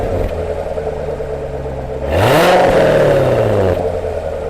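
A C7 Corvette with a variable quad-pipe exhaust idles with a low rumble, then blips the throttle into a loud rising rev that peaks and settles back down, heard close up with no talk.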